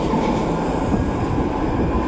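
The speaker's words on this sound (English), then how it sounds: "I'm here at the Granville SkyTrain station." SkyTrain rumbling through Granville station in downtown Vancouver, a loud, steady roar of rail transit with no pauses and no voices.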